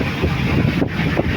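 Strong wind buffets a boat at sea during the southwest monsoon on a rough crossing toward Negros, a steady loud roar of wind noise and water with gusty swells, no talk.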